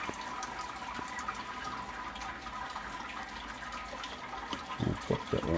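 Wort drains steadily from a lifted grain basket during a home-brew sparge, a continuous close splashing trickle of liquid falling back into the kettle, with a few louder sloshes near the end.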